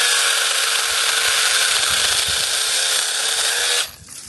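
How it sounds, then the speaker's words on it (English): Fuhaus cordless chainsaw cutting a tree limb about 2.5 to 3 inches thick, a steady loud electric whine held for nearly four seconds before cutting off abruptly. "Now we're going to try just the chainsaw."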